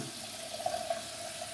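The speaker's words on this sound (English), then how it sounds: "You must add water." A soft, steady trickle of water being added a few drops at a time to sandalwood shaving soap, close and fairly quiet, with no voices.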